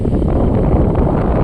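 Strong wind during a heavy rainstorm in Angul district, Odisha, roaring as a loud, dense rumble buffeting the microphone without a break for the whole short stretch, with no talking.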